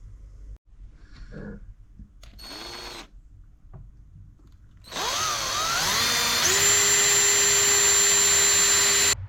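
A power drill bores small holes in the dashboard of a 1957 oval-window Bug hot rod: a few short bursts first, then a loud, close, sustained whine that rises and shifts in pitch as it spins up.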